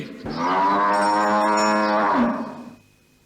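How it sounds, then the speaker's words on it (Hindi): A cow gives one long, loud, close moo that swells, holds and then fades, alone with no talk. "किसके लिए रंभा रही हो आज?"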